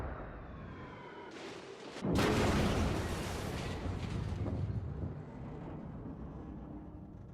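Heavy cruiser Pensacola's main guns firing in World of Warships: a single loud, deep booming salvo that rolls out into a long rumbling decay over steady ship ambience.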